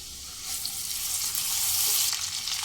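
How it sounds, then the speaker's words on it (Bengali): Onions sizzle steadily in a hot pan over medium flame, a close, continuous hissing crackle that swells slightly, with a faint stir partway through. "মিডিয়াম ফ্লেমে এক মিনিট পেঁয়াজটাকে ভাজা হতে দিয়েই দিয়ে দেব এক স্পুন আদা রসুন পেস্ট"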